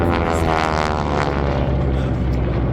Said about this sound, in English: Kate torpedo bomber right there front and center, dropping torpedoes.